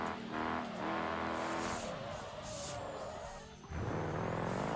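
Simulated truck engine driving in the BeamNG.drive game, a loud revving drone that rises and falls with gear changes, mixed with tire squeal and skidding over a few seconds.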